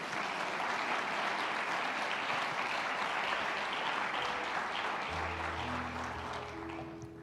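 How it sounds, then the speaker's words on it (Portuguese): A church congregation applauds during a sermon, a dense sustained wash of clapping at a distance that slowly fades while a low sustained keyboard tone enters toward the end. "aplauda Jesus bem forte"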